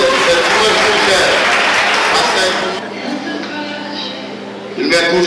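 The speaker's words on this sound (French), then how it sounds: "Alors toujours sous vos applaudissements. Applaudissez s'il vous plaît." Audience applause at a Word of Faith Ministries School of Ministry graduation in Haiti, loud and close, with dense clapping that drops to a lighter patter midway and then briefly swells again near the end.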